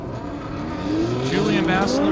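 Drag racing at an airport, with a 2017 Corvette and a BMW M3 running at over 200 mph: a loud engine roar climbs steadily in pitch as a car accelerates, with crowd and commentary noise underneath.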